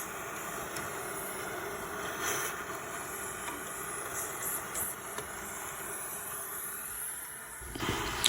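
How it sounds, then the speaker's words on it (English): Pump sprayer with a flexible extended wand spraying into an HVAC drain pan, giving a steady close hiss that runs throughout with little change in level. "I usually always use a pump sprayer that has a extended wand on it that is flexible"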